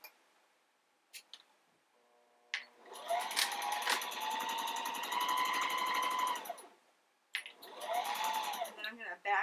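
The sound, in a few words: sewing machine sewing cloth diaper pod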